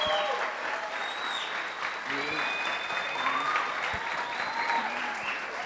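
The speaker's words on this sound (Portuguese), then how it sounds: "Isso aí, aplauda ao Senhor." A church congregation at a men's retreat gathering claps together, a continuous, moderately distant wash of applause with voices and cheers mixed in underneath.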